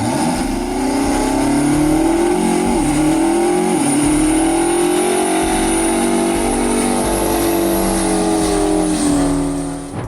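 Western Star 4800 truck with a supercharged nitrous 16-cylinder Detroit 16V92 engine, a loud sustained roar with a rising, revving pitch over ten seconds, close and without speech.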